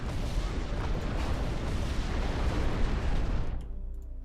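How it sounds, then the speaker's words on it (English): Mortar fire in the RTS game Ashes of the Singularity 2 makes a dense, rumbling barrage of explosions that booms steadily for several seconds and then drops off sharply. "We have mortars. Yeah. Mortars on the hills."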